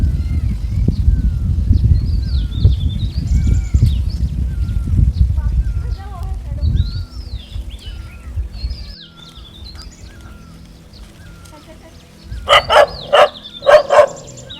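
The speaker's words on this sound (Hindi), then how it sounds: "तो भाई देख कर के कुत्ता भी परेशान हो रहा है।" A dog at a mountain farm in the Nainital area barks about three or four times in loud, sharp bursts near the end, after a stretch of talk and faint birdsong in the background.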